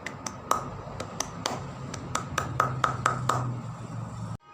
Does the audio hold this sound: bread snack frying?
no